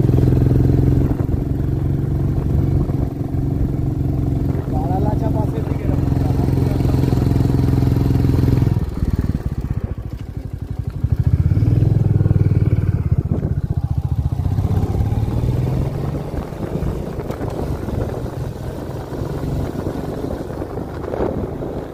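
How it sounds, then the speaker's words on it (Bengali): A Royal Enfield Bullet motorcycle carrying two riders thumps steadily at low revs in first gear, straining as it climbs a mountain road from Chaukori to Gunji, with wind buffeting the microphone; the engine note dips and rises again. "বাইক বেশিরভাগ সময়ই ফার্স্ট গিয়ারেই চলছিল"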